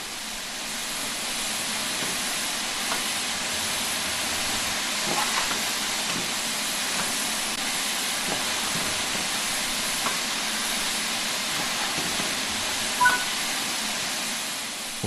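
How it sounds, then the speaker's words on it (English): A steam locomotive in a train simulator game, emitting a steady, broad hiss of escaping steam that persists without a break, with faint clanks and knocks scattered through it. "The reverser determines the direction of travel and how much steam is consumed as the locomotive moves."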